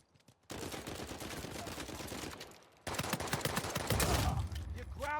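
Rapid gunfire from a sniper rifle in the Uncharted 4 multiplayer video game, loud dense shots in two bursts with a brief pause between, ending in a short electronic chime.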